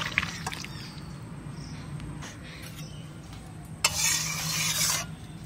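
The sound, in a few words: curry being poured into a cooking pot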